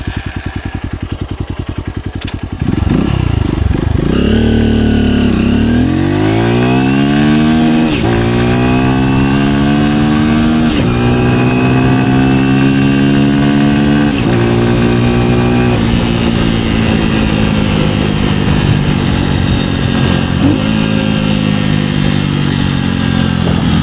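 A Honda XR150L motorcycle with an RBX exhaust system and deep intake groan, starting from idle and then revving hard through repeated rising pulls, loud and close, with a continuous throaty drone throughout.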